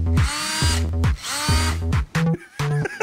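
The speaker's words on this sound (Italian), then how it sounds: "Cioè, sta usando un trapano." Bursts of a power drill whirring in short repeated runs, loud and close, with brief pauses and a sharper higher-pitched spin near the end.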